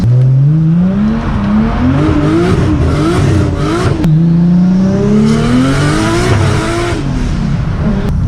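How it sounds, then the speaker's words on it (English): A rear-wheel-drive 700bhp Nissan R33 on street tyres spinning its wheels, the engine roaring loud and close as it revs and sweeps up in pitch, drops back, then climbs again. "Street tyres, it just keeps on spinning."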